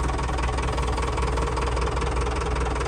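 A school bus diesel engine idles steadily just after being started, a continuous low rumble with a faint knocking texture, close and alone with no voices.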